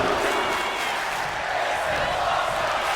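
A large wrestling crowd at an ECW pay-per-view event roars and chants continuously, a dense, loud wash of voices with no break.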